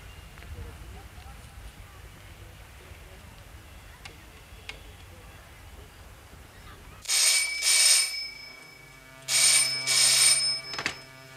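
An old-style telephone bell rings in two loud double bursts in a TV drama scene, following a stretch of quiet room tone.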